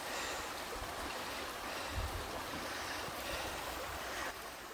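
River rapids at Hillsborough River State Park flow as a steady, broad rushing wash of water, fairly quiet and continuous with no talking.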